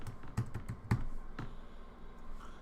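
A computer keyboard is tapped in a short run of keystrokes, several close, crisp clicks in the first second followed by a softer key press and quiet room tone.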